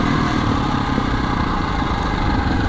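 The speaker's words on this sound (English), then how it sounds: "Supermoto wheelies under!" A supermoto motorcycle engine drones steadily close by while riding and pulling wheelies, a continuous mid-pitched buzz with no clear gear changes and no voices.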